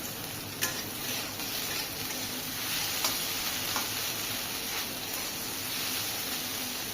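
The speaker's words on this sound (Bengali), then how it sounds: "জিরা, কালো জিরা দিয়ে তারপরে এটাকে ভেজে নিতে হবে।" Okra sizzles in hot oil with chili, cumin and black cumin, a steady frying crackle with occasional sharper pops and stirring scrapes, close and continuous with no voices.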